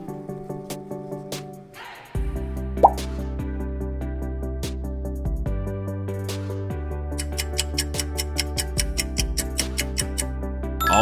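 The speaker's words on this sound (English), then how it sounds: "Always classic, always bubbly, it's Coca-Cola." Coca-Cola's logo jingle plays loud and alone: sustained bright synth tones with a sharp accent and, near the end, a quick run of repeated ticking fizz-like pulses.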